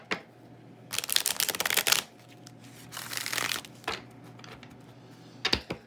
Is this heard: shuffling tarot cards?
yes